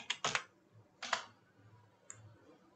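Computer keyboard typing during work in PowerPoint: a quick burst of several close key clicks, a second short cluster about a second later, then a single faint tap over a quiet room hum.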